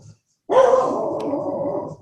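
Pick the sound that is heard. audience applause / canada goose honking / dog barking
dog barking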